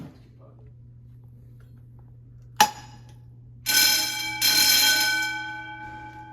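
A Notifier 640 fire alarm panel under test sets off a school fire alarm bell on a Saturday: a sharp clank, then two loud ringing bursts over a steady low hum, with people nearby.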